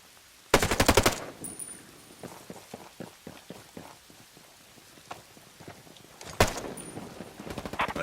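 Automatic gunfire in Ghost Recon Breakpoint: a loud rapid burst at the start, scattered lighter shots and impacts in between, then a second close, rapid volley near the end.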